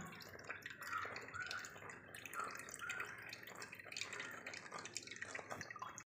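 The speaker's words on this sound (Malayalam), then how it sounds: "നമ്മളിത് പ്രത്യേകം ഒന്ന് അരിച്ച് തന്നെ എടുക്കുക" Pomegranate juice drips and trickles through a strainer to hold back the seeds for a pudding, soft liquid patters repeating close and faint throughout, with no talk.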